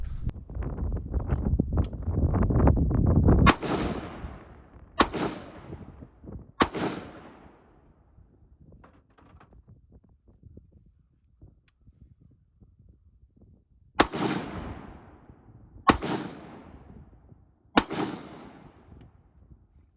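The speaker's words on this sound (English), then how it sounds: "We'll shoot these guns just a little bit." Several gunshots fired at targets at a 25-yard range: a few loud, sharp reports with long ringing tails, spaced a second or two apart, after a stretch of rumbling handling noise, then quiet pauses and three more evenly spaced shots.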